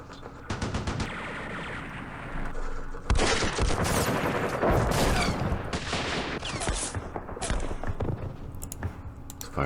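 Crackling volleys of small-arms and machine gun fire from units in Campaign Series Middle East, a dense, sustained barrage with sharp bursts and a loud swell in the middle, heard without talk.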